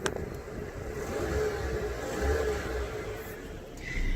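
An Alfa Romeo Giulia 2.0 with a Eurocompulsion intake and no aftermarket exhaust revs up and down twice, recorded close by; the engine note is fairly quiet, a smooth rising and falling hum.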